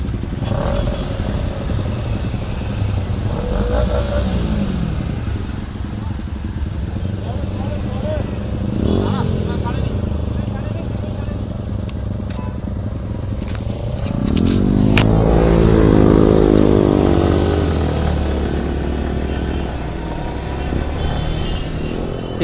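A group of motorcycles rides along a road on a trip to Nandakumar Rajbari, their engines droning steadily with passing bikes swelling louder around the middle, under wind noise and occasional talk.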